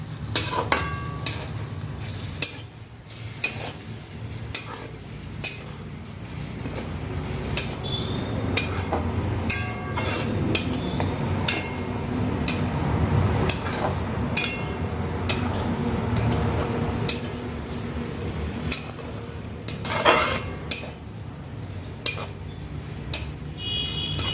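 Masala macaroni pasta is stirred in a pan, a metal spoon clinking and knocking against the pan at irregular intervals over a low frying hiss.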